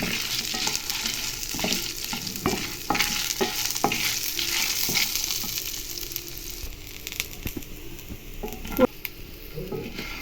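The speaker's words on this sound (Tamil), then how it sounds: "புளி, பூண்டு, சீரகம், அதுக்கப்புறமா வெங்காயம் போட்டு இதை நல்லா ஃப்ரை பண்ணி எடுத்துடலாம்" Tamarind, garlic, cumin and onion fry in a hot pan for a horsegram thuvaiyal, with a loud sizzling hiss and repeated close stirring scrapes and clatters against the pan.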